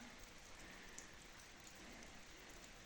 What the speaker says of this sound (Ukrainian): І тепер тільки дощ зупиниться, будемо її випробовувати.